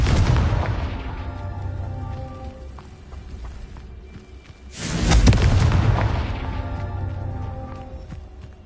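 Two booming Confringo fire-spell blasts in the video game Hogwarts Legacy, each a loud sudden burst that rumbles and decays over a few seconds, the second erupting midway after a quieter lull.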